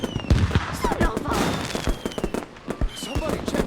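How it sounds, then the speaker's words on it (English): Video-game fireworks burst in a rapid crackling barrage of sharp bangs and pops in a New Year's celebration scene, with voices speaking amid the explosions. "We don't even get the animated fireworks."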